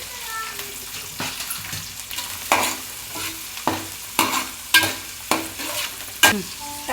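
Green chilies, curry leaves and onion fry in a pan for masala rice, with a soft sizzle broken by repeated scraping stirs of a spoon at a steady rhythm, close up.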